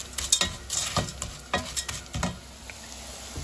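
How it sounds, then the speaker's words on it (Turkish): Noodles (erişte) are turned in a pan with onions and carrots as they fry, giving a few scraping stirs over a soft steady sizzle, close by. "Şimdi hafifçe bir eriştelerimi çevireceğim."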